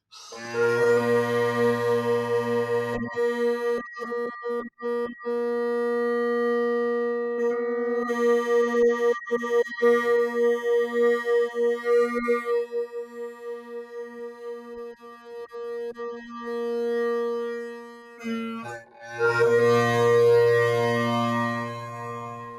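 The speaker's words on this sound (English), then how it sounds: "So those are all the drones together, tuned really nicely." Bagpipe drones, including a long bass drone, hum together in a steady, well-tuned sustained chord, loud and close, briefly breaking off before resuming with the same buzzing tone.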